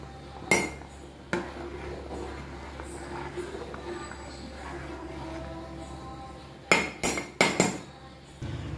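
A metal lid set onto a cooking pot of rice simmering on low heat, sharp clanks and clinks near the start and a quick cluster of metallic knocks toward the end, with a quiet kitchen hum between.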